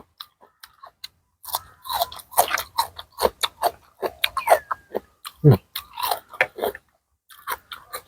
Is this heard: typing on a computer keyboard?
no